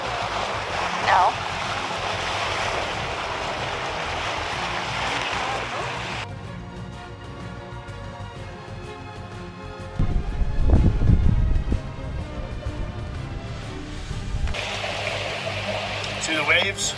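Water rushes and splashes around a sailboat moving through waves offshore, with a steady broadband wash that briefly dips and then swells with a louder low surge near the middle.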